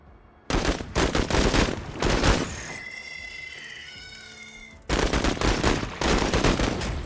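Rapid automatic gunfire from the video game Menace in two loud bursts separated by a quieter pause filled with faint whining tones, the shots crackling in fast succession.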